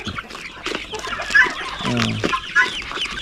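Darag hens cluck in short bursts close by, several birds calling over one another with a few sharper squawks, with a faint voice in the background.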